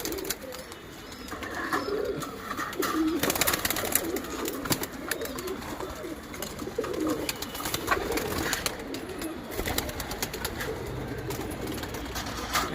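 Pigeons coo softly on a rooftop in a steady outdoor background, their low throaty calls repeating among rustling and ambient noise.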